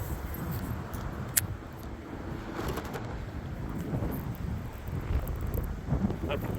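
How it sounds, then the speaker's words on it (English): Strong, gusty wind roars and buffets the microphone on a lake beside a bass fishing boat, a steady broadband rush with faint scattered ticks and no speech. "Well, now the wind's taking us forward."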